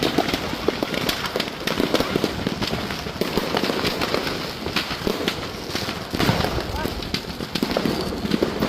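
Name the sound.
fireworks and firecrackers exploding at a firecracker shop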